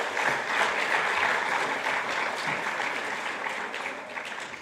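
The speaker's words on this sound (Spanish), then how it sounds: "Un aplauso más para el Señor." A church congregation claps together. The applause is a steady, full wash that holds at moderate volume and fades slightly toward the end, with no speech over it.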